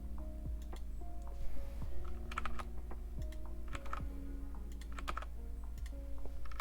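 Sparse computer keyboard clicks as a shortcut is pressed, a few light taps spread out over a steady low hum, with no speech.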